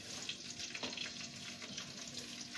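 Green chillies and onion hit hot ghee in a pan for aloo pulao, giving a steady, close, broadband sizzle that hisses on without pause and with no talking.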